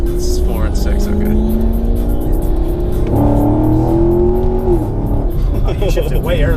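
A Camaro SS engine roaring under hard acceleration, pitch climbing steadily then dropping at a gear shift before rising again, loud and close from inside the car.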